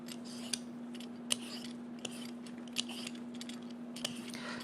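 A papaya is peeled with steady, rhythmic scraping strokes of a peeler, close and fairly quiet, over a constant low hum.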